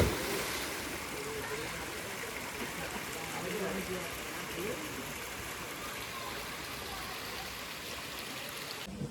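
River water divided into seven streams spills into a temple tank, a steady broad rushing and splashing that stays constant throughout, with a faint voice now and then underneath.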